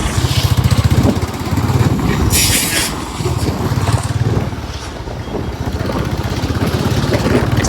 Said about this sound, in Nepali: काठमाडौँको जाम